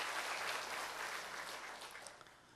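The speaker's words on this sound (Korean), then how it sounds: "환영하는 박수 한번 부탁합니다." Welcoming applause from a church congregation during a Sunday worship service in Incheon, a steady dense wash of clapping that stays fairly even and eases slightly toward the end, heard alone without speech.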